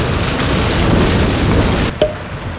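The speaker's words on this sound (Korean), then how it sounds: "아직까지 비바람 불고 있는데" Heavy rain and gusting wind from Typhoon Danas beat on a campsite tent on Chuja Island, a dense steady wash of noise ending in a sharp brief knock.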